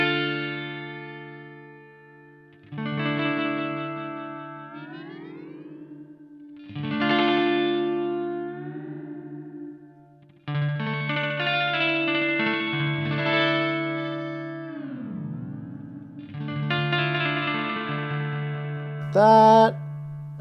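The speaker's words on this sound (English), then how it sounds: "So of course we get your classic digital delay sounds." Guitar played through a Guyatone digital delay effect: sustained chords and single notes ring out with trailing repeats and pitch-bending swells, several separate phrases each fading into echoes, ending with a brief high squeal.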